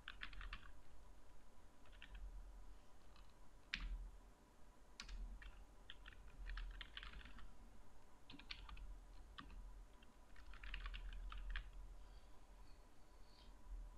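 Close computer keyboard typing while filling in a form, irregular bursts of quiet clicking keystrokes with short pauses between them over a low steady hum, no voices.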